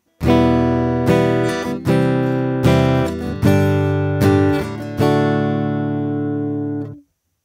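Acoustic guitar heard through a Kepma AcoustiFex magnetic soundhole pickup: a series of loud notes or chords struck about once a second, each ringing on, with the last one sustaining and fading. No voices.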